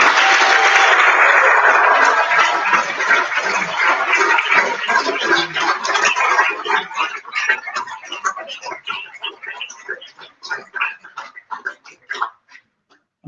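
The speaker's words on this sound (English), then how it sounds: "So a big round of applause" Applause from an audience at an awards event for a school team, loud and dense at first, then thinning into scattered claps that fade away, with some voices mixed in.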